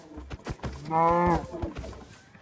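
A cow moos once in a video game, a drawn-out, harmonic-rich low call swelling in the middle of the clip, heard over faint background clicks and footsteps-like taps.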